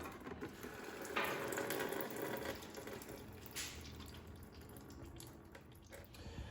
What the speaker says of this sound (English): So just kind of let the line hang, and here comes some more coolant